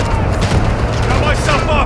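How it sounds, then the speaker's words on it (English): Dense, rapid gunfire from a military video game rattles loudly and continuously through the whole short stretch, with a voice talking over it. "You are taking effective fire."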